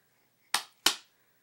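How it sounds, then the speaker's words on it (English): Two crisp, close hand claps land about a third of a second apart, each a sharp smack with a short decay, standing alone against near silence. "Clap those hands."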